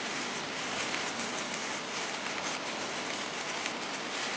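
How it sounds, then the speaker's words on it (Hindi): Heavy rain falls steadily in a park, a dense even hiss that holds at a moderate distance throughout without breaks, and no voices are heard. "बहुत बारिश हो रही है"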